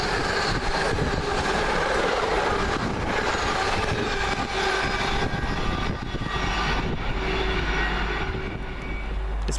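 Passenger train 1H68 bound for Manchester Piccadilly rolls past a station at Cheddington, a steady, loud broadband rumble of wheels and engine filling the whole stretch without pause.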